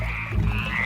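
A cane toad croaks in a short, low, continuous rattling burst, close and fairly loud, with no voices over it.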